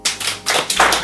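Audience applause at an Estonian team quiz, voting for the blue team: brief bursts of clapping in separate waves, fairly close and moderately loud.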